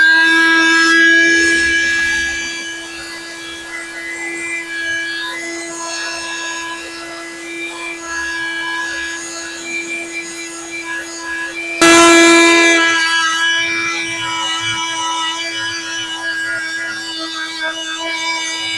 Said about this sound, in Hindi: तो अब मैं अपना ग्राइंडर स्टार्ट करने लगा हूँ